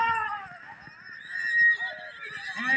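A horse gallops at a tent pegging (neza bazi) event in Khushab, its run blended with a lively crowd, shouting and commentary voices throughout, plus a louder burst midway.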